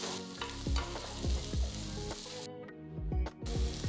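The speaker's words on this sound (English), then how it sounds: "Saute the vegetables for about 2 minutes." Capsicum and red chilies sauté in a hot pan with a steady sizzle, punctuated by repeated close scraping strokes of a spatula stirring the vegetables.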